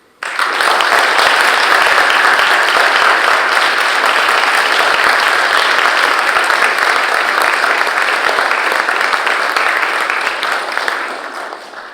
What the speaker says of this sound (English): Can we just have one final round of applause for the finalists?